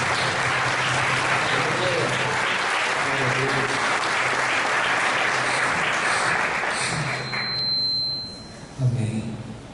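A church congregation applauds loudly and continuously, the sustained clapping filling the room for several seconds before tapering off near the end.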